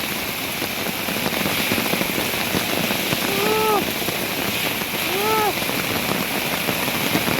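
Hailstones falling heavily in Fang, Thailand, a dense continuous patter and hiss on surfaces, loud and close, with a few brief whistle-like tones rising over it.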